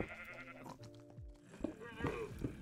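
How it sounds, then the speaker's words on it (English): Sheep bleating in the Minecraft video game, several wavering bleats close by in a short run with other game sounds mixed in. "Now I hear sheep too."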